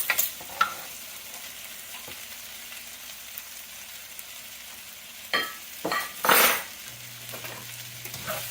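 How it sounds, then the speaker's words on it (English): Onions and spice softening in a frying pan, a quiet steady sizzle broken by a few sharp utensil scrapes and clinks against the pan, with a louder burst of stirring toward the end and no talking. "this is cooking for that extra 2 minutes, you can see the onions are getting soft"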